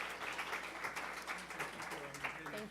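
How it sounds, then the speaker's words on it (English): An audience claps for an ambassador at a panel discussion on Latin American integration: a steady, moderately distant patter of applause running underneath a speaker's voice. "Please, a round of applause."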